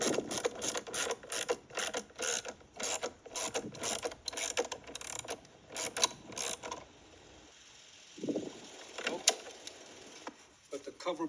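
Ratchet tightening a torque screw on the engine cover of a 2017 Audi Q7 during an oil service: rapid, close clicking bursts in repeated runs, pausing briefly, with occasional talk.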